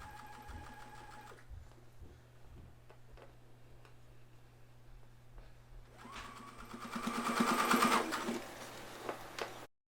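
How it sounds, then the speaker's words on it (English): A sewing machine stitches down the front of an elastic-back skirt waistband, a steady mechanical whir that starts around six seconds in, grows louder and busier, then stops abruptly near the end, with a low hum underneath throughout. "I can sew down the front now."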